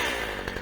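Warmed-up chainsaw engine running after starting with choke pushed in, a loud close buzzing drone with slight pulsing, heard only briefly.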